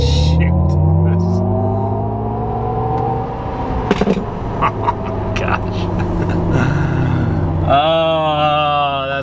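A GMC Hummer EV accelerates hard at full throttle from a red light, a loud electric motor whine climbing steadily in pitch with road and tire noise, and a voice speaks briefly near the end.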